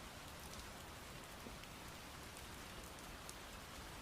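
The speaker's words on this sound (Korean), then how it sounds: "그 빗소리를 들으니까 기분은 좋죠." Steady rain falling on a surface, a dense continuous patter with occasional distinct drops, fairly quiet and even throughout.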